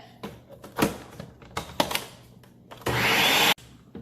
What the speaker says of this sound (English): I'm adding my white rum. And I'm gonna blend it.